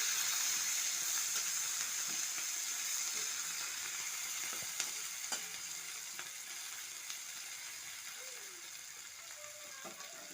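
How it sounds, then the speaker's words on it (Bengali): Sliced onions frying in a pan as they are stirred, a steady hissing sizzle that slowly softens, broken by a few scrapes and knocks of a utensil, heard close with no talk. "পেঁয়াজগুলো নেড়ে চেড়ে নেব।"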